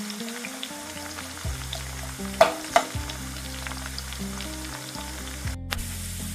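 Onions frying in oil for a chicken maklouba, a close, steady bubbling sizzle with a couple of sharper pops and stirring scrapes partway through, no talking.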